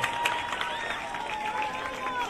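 Steady applause from an audience at a school judo demonstration in Puri district, a dense, even patter of many hands with crowd noise, filling the whole stretch at moderate level without pause.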